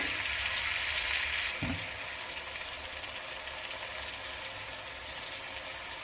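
Tomatoes cooking in a pan for a Nellore-style fish curry give a steady, close sizzle and gentle bubbling, with a brief stirring scrape partway through and no talk.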